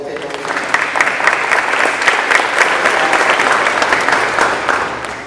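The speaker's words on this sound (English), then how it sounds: "let's give them all a round of applause" A round of applause from an audience at an evening engagement event, a steady, full burst of many hands clapping that holds strongly throughout.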